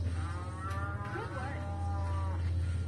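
A cow moos once in the 1-2-Switch milking game, a drawn-out bending call over a steady low hum, with faint background noise around it.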